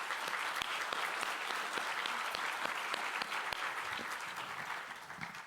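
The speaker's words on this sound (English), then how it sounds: "Give them all a round of applause." A crowd at a Medicaid town hall breaks into a round of applause, a sustained, even patter of many hands with a few sharper individual claps standing out, moderately distant, fading slightly at the end.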